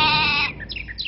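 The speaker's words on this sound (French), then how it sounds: "Un mouton. Parce qu'on est tous un peu moutons, tu sais." Sheep bleat from the World of Warcraft mage polymorph spell, a single loud, close, wavering bleat lasting about half a second, followed by faint chirping tones.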